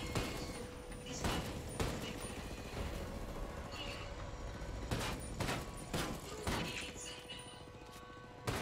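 Gunfire from the video game Ghost Recon Breakpoint during a raid, with repeated sharp shot bursts over a dense, continuous battle din, loud and close throughout.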